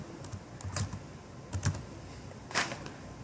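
Code typed on a computer keyboard, with a few close key clicks in small clusters separated by short pauses and a sharper tap near the end.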